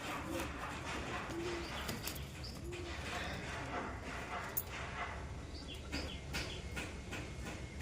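Andhra pigeons in a small cage giving soft, low coos in short repeated bursts, faint against a busy background with scattered knocks and a voice speaking nearby.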